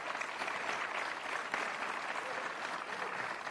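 Applause from a conference audience welcoming a panelist at a talk on political correctness, a steady, even wash of clapping at moderate volume that runs throughout.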